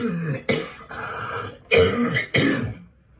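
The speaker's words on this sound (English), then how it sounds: "whenever you deal with your airway, you trigger a cough" Several harsh coughs and throat-clearing bursts from a person during a home tracheostomy tube change, coming in three or four separate fits with short gaps, close and fairly loud, with no talking.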